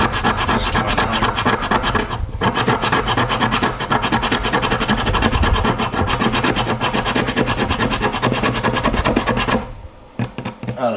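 A Gerber knife's 90-degree spine scrapes wood into fine shavings for catching a spark, a continuous loud, fast rasping close up for about ten seconds before it stops.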